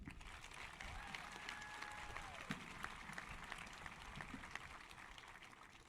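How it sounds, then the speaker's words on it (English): Graduation audience applauding at a Bellport High School ceremony, a steady distant wash of clapping and crowd noise that stays faint throughout. "Let's get a round of applause for anyone that helped make our Bellport experience great."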